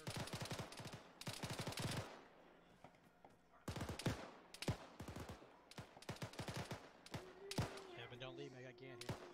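Gunfire in the Arma 3 video game crackles in rapid bursts of sharp shots with brief pauses between volleys. A voice speaks briefly near the end.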